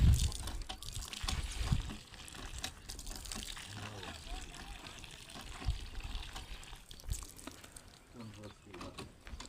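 Water gushing from a hand pump at a mosque, a continuous splashing flow with irregular surges, heard under people talking nearby.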